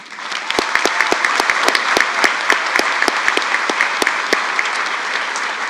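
An audience at a 2024 high school graduation ceremony claps for retiring teachers, with dense sustained applause from a large crowd that swells in quickly and keeps going steadily, with sharp nearby claps standing out.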